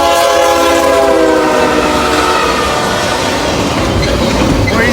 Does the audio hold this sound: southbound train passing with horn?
yes